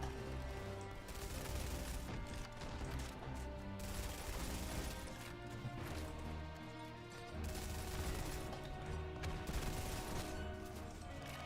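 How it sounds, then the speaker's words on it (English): Suppressed SMG fire in Halo 3, dense continuous bursts of muffled rapid shots layered with game music and ambient battle noise, steady loudness with no clear talk. "I love the silenced SMG in this. This shit's so fun to use."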